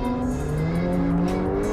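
A Lamborghini Huracan accelerates with a loud, steady engine roar whose pitch climbs smoothly, close by and with no voices over it.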